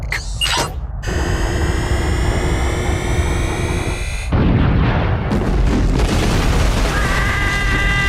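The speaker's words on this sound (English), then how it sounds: "Nice shooting, Clank." Weapon fire and blasts from the Ratchet and Clank 3 video game, a loud continuous barrage of booming shots with mechanical clanks and sustained tonal whines layered over the combat.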